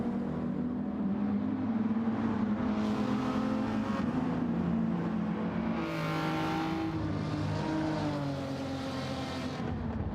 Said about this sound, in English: Aston Martin AE31 twin turbocharged V12.